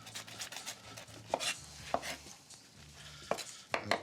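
A knife dices red onion finely on a cutting board in a firehouse kitchen, a series of irregular sharp chops with quieter tapping in between, fairly faint and close.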